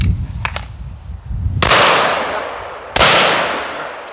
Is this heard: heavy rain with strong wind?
no